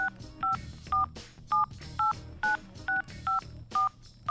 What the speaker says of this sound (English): at the 10-second mark, you can hear a telephone being dialed